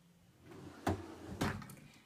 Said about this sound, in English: This is one of my favorite drawers.